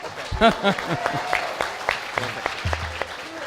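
Scattered claps from a debate audience, a few sharp separate hits rather than sustained applause, with a voice speaking over the start.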